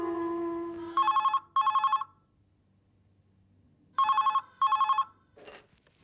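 A telephone rings indoors with a bright electronic bell in two double bursts, each pair of rapid trilling rings followed by a pause, then a short final chirp, after a faint tonal sound at the start.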